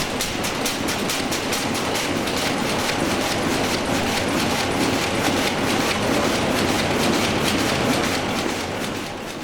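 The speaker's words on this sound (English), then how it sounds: "here you'll see me start one engine and then race around and start the second engine by sliding the cams from the start to run positions" Historic diesel engines at the Comet Gold Mine power station running with a loud, steady, rapid mechanical clatter and a deep low rumble, continuous and close, with no talk.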